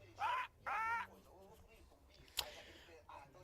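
Bird squawking in the video game Deponia, two loud harsh caws close together at the start, then a quieter sharp click and faint murmurs in a dim indoor scene.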